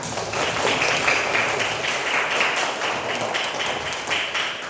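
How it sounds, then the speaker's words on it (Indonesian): A class of students claps their hands during an Islamic studies lesson, a steady dense patter of many claps holding at an even level for several seconds with no talk over it. "Tepuk tangan."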